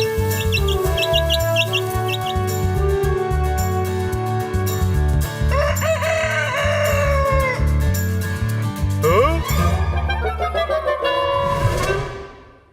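Chickens clucking and a rooster crowing on a village poultry farm in a children's cartoon, with busy calls layered over a steady backdrop that runs almost the whole time before fading out at the end.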